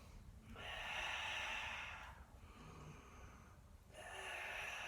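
Deep, audible breaths drawn close to the microphone during a beginner Pilates push-up, two long airy exhalations separated by a short pause, then a third starting, alone with no talk.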